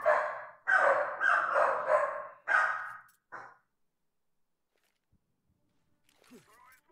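A dog barks loudly in a few close bursts, then the barking stops and near silence follows, broken only by faint small noises at the end.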